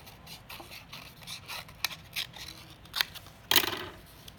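Scissors cut through a paper rectangle in a series of close, irregular snips and crisp scraping strokes, with the sharpest cuts near the end.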